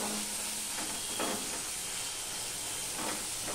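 Ginger and tomato sauté in a pan, giving a continuous bright hiss of steam and sizzle at an even level throughout, with no talking.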